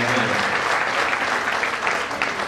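An audience at a Hindi poetry recital applauds, a dense, steady wash of clapping that fills the whole moment without pause.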